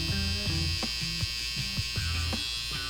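An electric hair trimmer buzzes steadily and close while tidying stray hairs during a self-administered fade haircut, its drone broken by brief repeated pulses as it passes over the hair.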